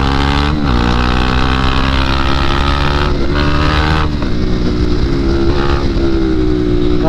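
Several KTM 390 motorcycles race and overtake on a ride, their engines droning loudly and continuously with shifting pitch as they rev and change gear, close to the mic.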